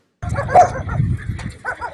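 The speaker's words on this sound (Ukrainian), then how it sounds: "Смотрите, вот одни собаки бегают" Dogs in a burned-out, abandoned village bark and yip close by in short bursts, with a whimpering tone between the barks.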